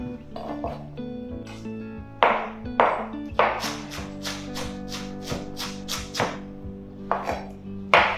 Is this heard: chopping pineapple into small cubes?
yes